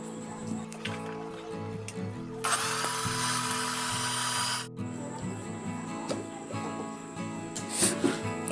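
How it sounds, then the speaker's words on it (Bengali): A kitchen mixer grinder crushes fried spices in a loud, steady whir lasting a couple of seconds, surrounded by quieter clatter and a speaking voice. "ঠান্ডা হলে মিক্সিতে গুঁড়ো করে নেব।"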